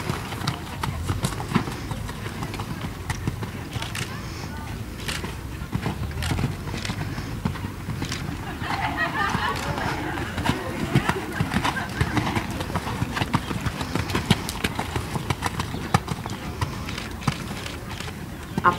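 Several horses cantering in a dressage test with a group ride in an arena: continuous rhythmic hoofbeats on soft footing, moderately close, over a steady murmur of background noise.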